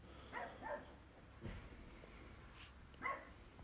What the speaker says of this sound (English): You can hear a dog in the street going mad.